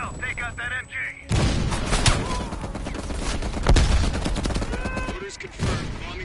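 Machine gun fire in the video game Call of Duty Black Ops Cold War, loud dense bursts of gunfire with booming impacts over a battlefield din, after a brief quieter opening with a voice.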